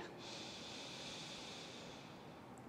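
A deep, steady inhale during a guided breathing exercise for stress relief, a continuous airy rush of breath held close to the microphone for almost three seconds with no talking.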